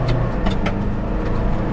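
Steady engine hum with road rumble as a second-generation Ford Everest SUV pulls away from a stop and gathers speed, heard from inside the cabin.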